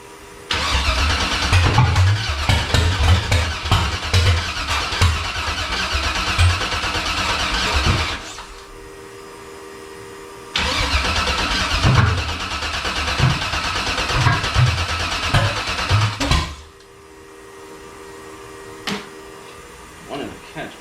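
A Factory Five 35 hot rod truck engine cranks hard on a first start attempt, two long bursts of loud, rhythmic starter churning that fail to catch, each followed by a quiet lull with a faint hum.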